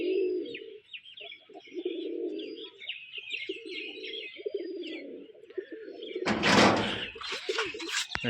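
A black male pigeon gives repeated low, throaty coos in several bursts, while other birds chirp higher in the background, and a short loud clatter comes near the end.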